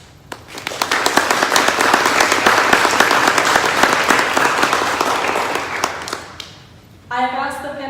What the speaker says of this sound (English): I would first love to give a round of applause for these ladies